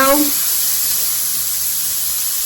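Vegetables sauteing in a hot pan give off a steady, close, even sizzling hiss that holds for the whole stretch, with a brief tonal voice-like sound at the very start.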